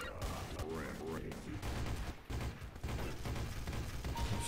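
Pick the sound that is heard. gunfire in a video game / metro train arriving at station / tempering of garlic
gunfire in a video game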